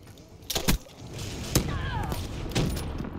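Call of Duty gunfire, several sharp single shots spaced about a second apart over a busy in-game background, with a weapon that fires after a slight delay.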